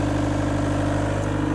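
A car with an oil pressure fault idles steadily in a workshop, a loud, even low engine drone that stays level without revving, and no voices over it.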